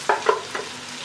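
Shiitake mushrooms, dried shrimp and dried scallops tossed in a hot wok, three quick scraping stir strokes over a light sizzle, close and fairly soft.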